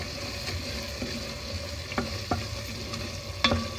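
Ingredients for a tamarind kuzhambu with brinjal and mochai beans sauté in a pan, a constant close sizzle punctuated by a few sharp scrapes and taps of a spoon against the metal.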